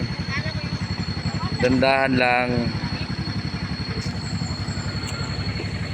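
Bajaj RE three-wheeler engine running on a winding mountain road, a steady low pulsing putter close by with someone speaking briefly over it midway.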